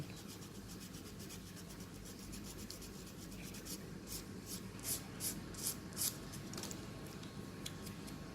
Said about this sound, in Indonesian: Mesti diamplas. Pelan-pelan aja, pakai amplas 1500.